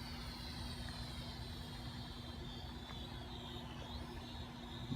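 A JJRC H31 quadcopter drone flies around in intermediate mode, a faint steady motor whine and buzz carrying at a distance throughout, its pitch shifting slightly as it maneuvers.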